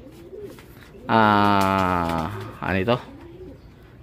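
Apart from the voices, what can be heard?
returning racing pigeons cooing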